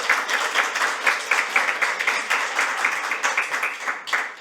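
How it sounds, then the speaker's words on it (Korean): Audience applause at a legislative forum on strengthening accounting oversight of local private outsourcing, steady moderate clapping from a hall crowd that continues for several seconds and tapers at the end. "박수 부탁드립니다."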